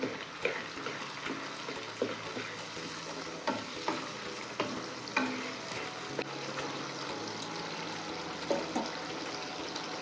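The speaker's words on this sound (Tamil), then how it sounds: "உப்பு மஞ்சத்தூள் தக்காளி வெங்காயம் எல்லாத்தையும் சேர்த்து மிக்ஸ் பண்ணி விட்றலாம்" A utensil stirs tomatoes, onions, salt and turmeric in a hot pan, with steady sizzling and frying beneath repeated scraping clicks and knocks, no voices.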